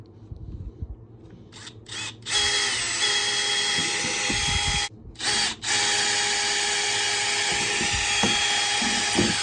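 Power drill boring starter holes, small then big, for a speaker cutout in a tweed ukulele amplifier cabinet. Steady loud whine with brief stops, preceded by a few short trigger bursts and light handling knocks.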